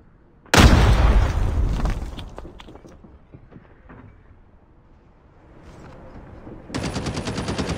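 A grenade blast in Call of Duty Mobile erupts as one loud, sudden boom, then fades into a rumble of scattered gunfire before a dense burst of rapid automatic shots returns near the end.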